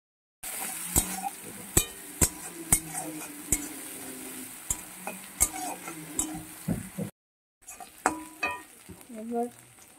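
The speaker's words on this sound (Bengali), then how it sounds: "পেঁয়াজগুলোকে ভালো করে ভেজে নেব।" Chopped onions frying in oil in a pan, for a Bengali bhetki fish oil-and-chilli curry, with a steady sizzle under repeated sharp clicks and scrapes of a spoon stirring, a short gap partway, then more stirring.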